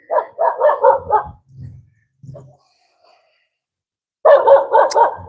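A stray dog barks in quick bursts of four or five loud barks, falls quiet, then barks again in another close, loud run.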